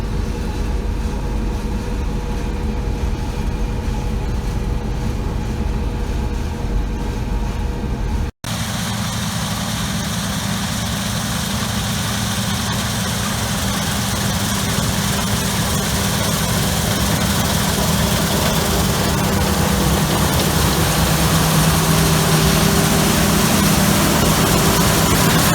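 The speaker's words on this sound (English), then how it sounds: "this is my wife that's steering the combine for me right now" A combine harvester's heavy engine runs steadily in a soybean field, with a continuous low rumble and mechanical drone that changes character after a brief cut, close and loud throughout.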